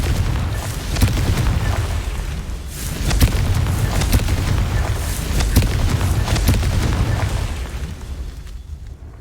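Spell explosions from Confringo casts in the Hogwarts Legacy video game, a run of booming bursts over a dense, rumbling backdrop of game sound, steady throughout and fading near the end.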